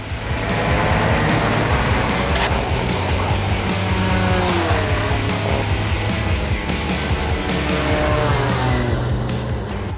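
Race cars roar past with squealing tires as a competitor runs off the track during a close overtaking battle, a loud, dense, continuous engine wail and skid noise with no speech.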